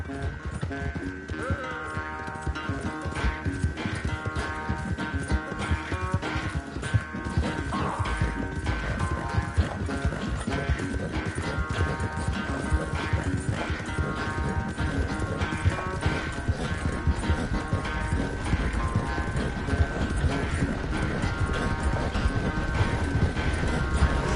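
Horse hooves clip-clop in the Red Dead Redemption 2 video game as a horse is ridden. The hoofbeats are rapid, steady and close, running throughout over a constant tonal background.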